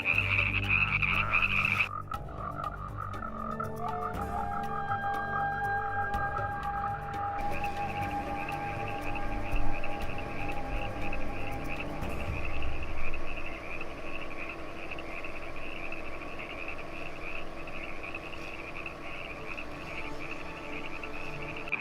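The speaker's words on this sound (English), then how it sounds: "all around you guys can hear it. Those chorus tree frogs." Chorus tree frogs calling in a desert wetland, a dense overlapping chorus of rhythmic creaking trills, loud and continuous, with several callers at different pitches joining and dropping out.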